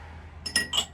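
Pressed glass punch cups in a five-fruit design clink together, two or three quick bright chinks in close succession, near and fairly quiet over a faint hum.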